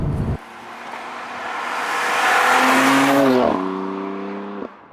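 A BMW F87 M2 Competition engine pulls hard with rising, then falling revs as the tires squeal through a fast corner, loud and close, with no talking.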